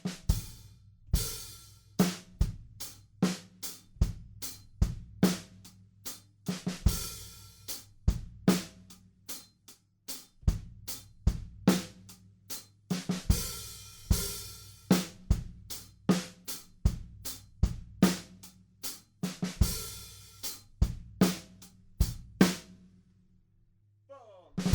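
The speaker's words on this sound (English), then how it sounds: "eventually the drums will come back in and we've got a groove that sounds like this" Solo rock drum kit groove in the style of the first verse of a song: steady kick and snare backbeat under quick sixteenth-note hi-hats with periodic cymbal crashes, close and loud, no voices.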